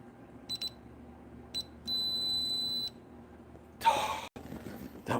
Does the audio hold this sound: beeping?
yes